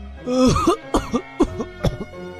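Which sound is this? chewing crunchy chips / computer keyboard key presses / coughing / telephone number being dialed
coughing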